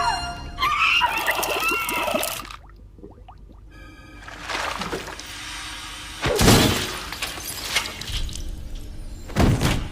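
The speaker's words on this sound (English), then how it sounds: "the girl who gets her head dunked in liquid nitrogen and then smashed it on the side" A head frozen in liquid nitrogen is smashed against a surface and shatters in a Jason X film scene, with crashing breakage, heavy thuds and scattered debris over a dramatic soundtrack.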